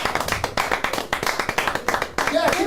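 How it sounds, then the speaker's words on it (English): Steady applause from a crowd at a live Give STL Day 2025 event in St. Louis, brisk and continuous, with a few voices rising near the end. "keep applauding"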